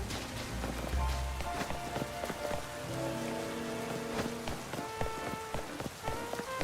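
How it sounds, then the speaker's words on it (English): Steady drizzle of rain in the Pokemon Legends Z-A video game, a continuous soft patter of drops under layered game music tones and occasional footstep-like ticks. "A nice little drizzle."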